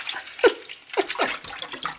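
Cold tap water splashes over small cut pieces of tripe for a Jamaican curry, in a few quick sloshing bursts with a trickling wash between them, close and moderately loud.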